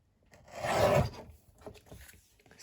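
Paper card for a mini album being trimmed, a single rasping cut that swells and fades over about a second, followed by softer scraping and handling sounds, close and fairly quiet.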